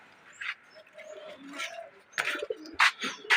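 A pet racing pigeon coos on a rooftop, with soft, close, intermittent coos and rustling that come in short bursts, growing slightly louder toward the end.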